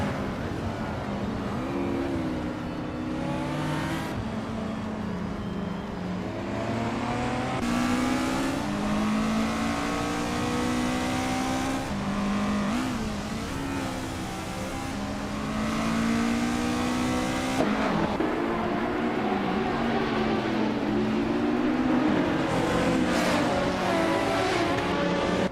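Several race cars in the Retro GT 500 class, including a 1996 Toyota, roar off the start in a racing game, engines revving hard and shifting in overlapping waves, with brief tire squeal, loud and continuous.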